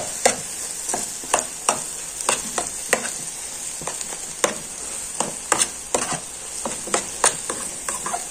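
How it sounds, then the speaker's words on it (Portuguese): An egg fries in a pan with a constant bright hiss, punctuated by many sharp crackling pops and clicks at irregular intervals throughout, with no voices. "Agora deixei ele fritar aqui"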